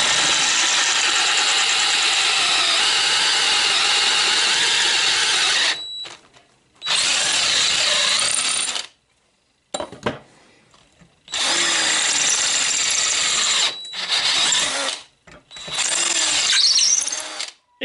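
A power drill bores holes with progressively larger bits while fitting the rear trunk hinges on a Citroën Traction 11B body. Several loud, whining bursts of drilling are separated by short silent pauses.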